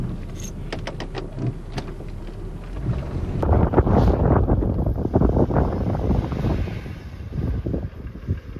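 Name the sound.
strong wind with blowing snow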